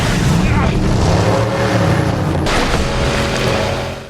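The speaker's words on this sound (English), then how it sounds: "The truck explodes, killing Stack." A truck loaded with weapons blows up in a film scene after crashing into a tree, a loud booming blast with rumbling, crackling noise that swells midway and then tails off.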